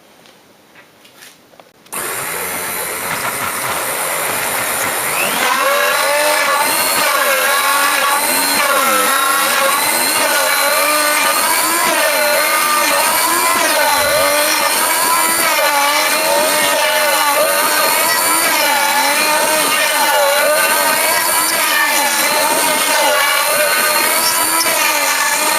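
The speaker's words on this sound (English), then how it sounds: "I'm just using a 3mm up spiral cutter. So we'll start our cutting." A CNC router with a 3mm up spiral cutter cuts a top piece, starting after a brief quiet moment into a loud, continuous high-pitched whine whose pitch wavers steadily as the bit moves through the material.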